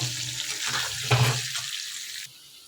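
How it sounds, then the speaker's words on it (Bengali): Salted potato pieces fry in oil over a high gas flame, a loud close hiss that swells briefly, then drops sharply to a faint simmer near the end; no one speaks. "এবার গ্যাসের আটটাকে আমি হাই করে দিয়ে আলুগুলোকে একটু ভাজবো"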